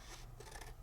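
Scissors trimming paper for an ink-stamped card, a short, quiet snipping and rasping cut heard alone.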